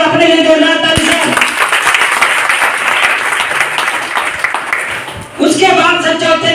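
Loud audience applause breaks out at a spiritual discourse, a dense sustained burst of clapping that runs several seconds before a voice returns.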